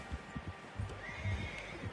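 A horse whinnies in the video game Red Dead Redemption 2, a faint neigh over a busy background of hoof clops and game ambience.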